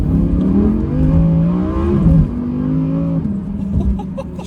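Audi R8 V10 pulling hard with aggressive gear shifts, a loud rising engine wail that climbs through the revs, breaks sharply at each shift and climbs again, heard from inside the car with steady road roar underneath.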